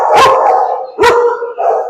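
Pugs bark loudly and close up, two sharp barks about a second apart followed by a drawn-out whining yelp.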